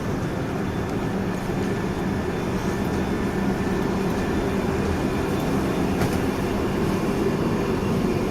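Steady, loud rumble inside a London Underground Piccadilly line train carriage running toward Uxbridge, a continuous broadband roar with faint high whines and no voices.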